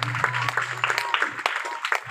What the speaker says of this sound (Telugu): గట్టిగా చప్పట్లు పడతారు బిగ్గరగా.